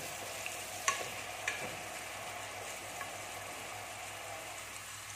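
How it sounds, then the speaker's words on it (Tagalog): Garlic sautés in a pan with a faint, steady sizzle, broken by a few soft scrapes and clicks as a utensil stirs it. "So, haluin lang natin para hindi masunog."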